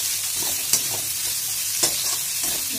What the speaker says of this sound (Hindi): अब इसमें जाएगा हमारा प्याज, कटा हुआ मिर्च, इसे भी हम हल्का सा भून लेंगे।